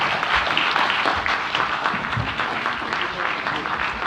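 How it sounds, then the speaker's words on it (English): An audience at a convention hall applauds the President of the Philippines, a dense, sustained wash of clapping that stays loud and even from start to finish. "a big round of applause to our President"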